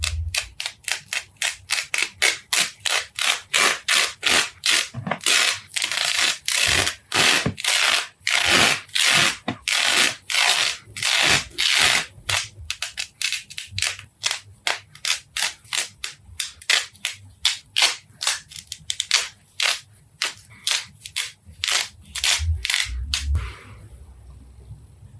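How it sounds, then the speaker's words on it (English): Lace is torn away from a cloth tablecloth in rapid, repeated sharp ripping snaps, loud and close, coming in quick bursts with brief pauses and no talk. "Then I began separating the lace from the tablecloth, and here's some really satisfying ASMR"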